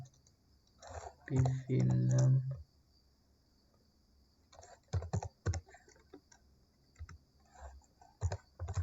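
Keyboard typing of a router command during IPv6 network configuration, a brief burst of clicks followed by scattered keystrokes, close and fairly quiet, with a short louder sound partway through.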